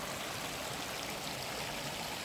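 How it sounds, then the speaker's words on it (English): A brook flows through woods in Northern Maine on a hot day, making a steady, close, hissing rush of running water with no voices. "This brook is so magical to me"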